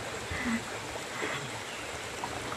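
Water flowing in a clear stream, a soft steady wash and trickle heard close by, continuous through the moment with no talking.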